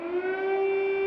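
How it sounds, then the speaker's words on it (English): Air raid siren over Kyiv holding a single steady wailing tone, loud and continuous, alone without voices. "Ukrainian anti-aircraft fire responded and sirens wailed"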